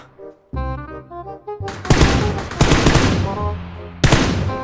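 Video game gunfire ringing out in loud, dense bursts of rapid shots, starting after some brief musical tones and continuing with a second heavy volley near the end.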